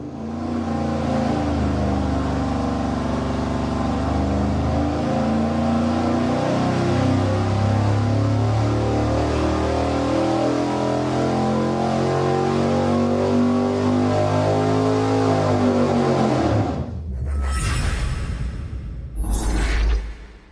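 An engine on a dyno, fitted with an Edelbrock RPM Air Gap intake manifold, pulls hard with a loud, rising rev under load, then cuts off and winds down, with a few short bursts of noise after.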